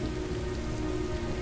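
Heavy rain in the video game Heavy Rain pours down in a dense, unbroken hiss, loud and close, with no voices over it.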